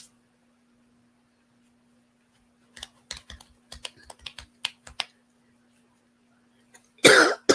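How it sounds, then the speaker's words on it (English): Silence gives way to a string of small clicks and taps. Then comes one loud, harsh cough close by, with a faint hum underneath. "got this cough"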